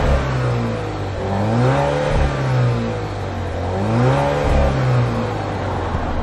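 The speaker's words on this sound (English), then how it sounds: "Listen to that exhaust note" A 2022 Alfa Romeo Stelvio Veloce engine and exhaust hum steadily, rising and falling twice in pitch as the revs swell and ease, a continuous smooth drone heard close with no voices.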